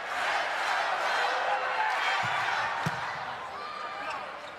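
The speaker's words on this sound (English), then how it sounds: "here comes that crowd" Loud crowd noise fills a men's college volleyball arena at #1 Hawaii vs #3 UC Santa Barbara, a steady roar of cheering that holds throughout with a few sharp claps or thuds.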